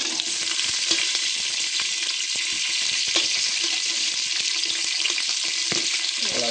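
Onions dropped into hot oil with reddened roasted peanuts for pulao, giving a loud, continuous close sizzle broken by occasional stirring clicks and pops.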